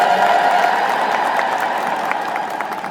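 A crowd at the consecration of the Kidane Mihret and St. Gabriel church building in Ayat gives dense, continuous applause. Ululation runs through the clapping, and the sound fades slightly toward the end.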